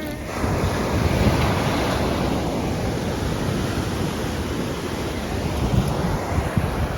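Dredge pipe pouring a steady, loud rush of water onto a beach during shelling, a continuous broadband surge with wind buffeting the microphone throughout.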